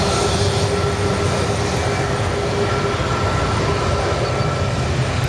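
A departing airliner takes off at Dublin Airport, a steady broadband engine roar heard from a distance with a faint tonal whine, continuous and unbroken throughout.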